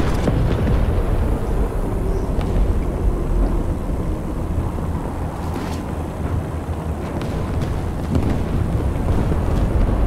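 Artillery shells pound down in a war video game, a dense, loud, continuous low rumble of overlapping explosions with occasional sharper blasts, no voices.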